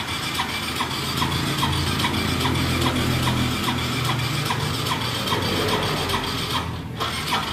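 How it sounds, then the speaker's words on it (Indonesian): A Yamaha Soul GT 125 scooter with weak electrics and a hard-starting engine cranks on its electric starter, making a repetitive whirring and churning that continues for several seconds before cutting off near the end. "Nah ini kita tes starter."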